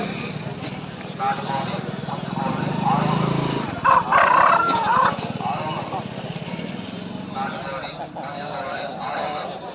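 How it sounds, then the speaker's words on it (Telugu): Chickens and roosters cluck and a rooster crows at a busy Sunday market in Pileru, amid crowd chatter and a nearby motor droning, with people talking throughout. "చూడండి. అక్కడ కూడా ఉన్నాయి కోళ్ళు అనేది."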